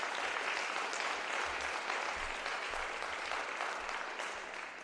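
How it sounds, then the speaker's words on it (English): A crowd claps steadily through a wrestling team's senior night in a school gym, a dense, continuous wash of applause that fades slightly at the end. "We'll clap it up."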